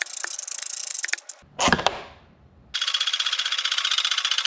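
A ratcheting tool tightening the body panel screws on a BMW F650GS Dakar, with quick close clicking runs split by a short pause and a brief scrape of handling.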